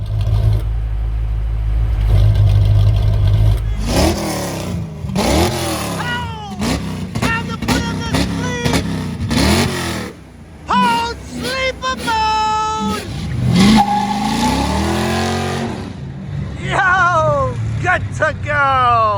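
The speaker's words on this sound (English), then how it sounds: "He hooked me up with a valved exhaust." A car engine revs repeatedly through a valved exhaust, loud and throaty, rising and falling in bursts, close by, with brief pauses between the blips.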